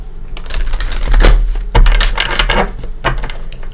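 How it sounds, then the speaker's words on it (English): Tarot cards being shuffled by hand, a few quick riffling bursts of papery flicks and taps, close and fairly loud, with no voices. "Give it a couple shuffles."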